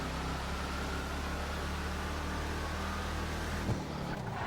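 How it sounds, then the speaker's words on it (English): An 850-horsepower supercharged V8 in a Bravado car in GTA 5 rumbles steadily at idle, a dense constant low drone with no speech. "850 horsepower supercharged V8 rumbling underneath that hood."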